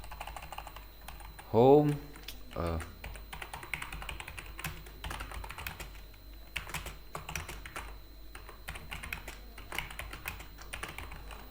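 Typing on a computer keyboard while entering a React Native component shortcut, producing soft irregular clicks throughout, with a brief spoken word partway in.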